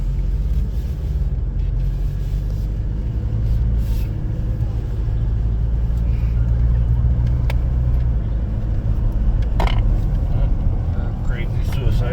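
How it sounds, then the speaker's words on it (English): Road traffic passes continuously nearby, a steady low engine and tire rumble throughout with a brief louder pass near the end. "We're going to yield and let this traffic through."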